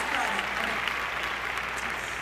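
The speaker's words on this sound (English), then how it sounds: "A little bit of applause." Applause at the 2015 Stellar Awards ceremony, a large audience clapping in a steady, dense wash that holds at an even level the whole time.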